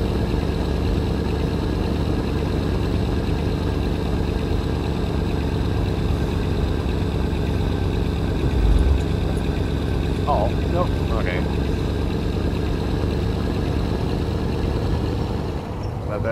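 A truck in Euro Truck Simulator 2 cruises with a loud steady diesel drone and rumble, a brief thump midway, and a voice talking over it.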